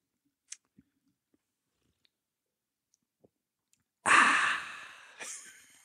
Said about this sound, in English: Ooh, listen to those bubbles bubble.